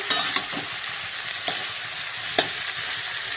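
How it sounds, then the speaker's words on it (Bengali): Mixed vegetables, among them spinach, cabbage, pumpkin, radish, carrot, eggplant and potato, fry with mung dal in a pan, giving a constant close sizzle broken by a few sharp scrapes of the stirring spoon. "একটু নাড়াচাড়া করবো"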